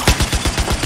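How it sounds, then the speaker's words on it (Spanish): Rapid turret gunfire from a moving vehicle in Battlefield 4 on the Golmud Railway map, a loud, fast burst of evenly spaced heavy shots, close and alone. "Disparamos con la torreta en movimiento con nuestro aliado"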